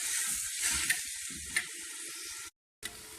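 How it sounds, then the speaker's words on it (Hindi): Beef keema fries on high heat in a pan, giving a steady close sizzle with a few stir-like pops and scrapes, briefly cutting to silence before the sizzling resumes. "कीमे को भूनने के लिए इसको हम तेज़ आंच पे पकाएंगे।"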